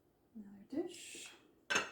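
Uranium glass dish from 1987 handled during an unboxing, giving a few soft knocks and a brighter clink near the end, close and fairly quiet.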